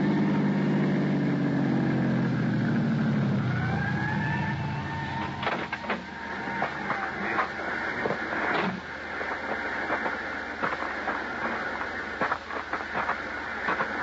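An ambulance siren pulls away from a curb in Georgetown as a radio drama sound effect, its rising wail sweeping up over a low engine rumble and then fading under steady street noise.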